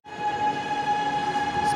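A Chennai Metro train picks up speed, heard close as a loud, steady electric whine with a low rumble beneath that holds evenly after a quick start.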